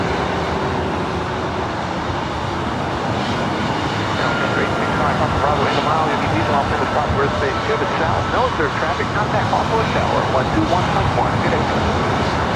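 Delta Airbus A321neo jet at LAX, a loud, steady broadband engine roar that builds slightly and holds throughout, close by with no clear breaks.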